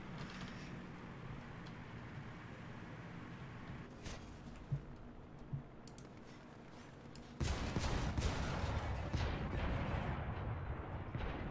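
A 37 mm cannon barrage in War Thunder, heard as a steady low rumble of distant firing that turns into a louder, denser burst of rapid shots in the second half.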